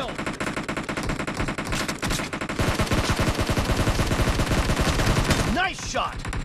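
Rapid automatic gunfire from the mobile battle royale game BGMI during a team deathmatch, loud continuous bursts with dense repeated shots, a brief electronic sweep near the end.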